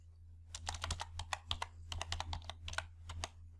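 Rapid, uneven keystrokes on a computer keyboard while entering an Excel IFS formula, a close run of crisp clicks over a steady low hum, with no voice.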